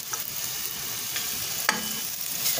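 Ginger frying in a pan before mussels are added for a sautéed dish: a steady hissing sizzle with a couple of sharp pops and crackles, close up, no speech.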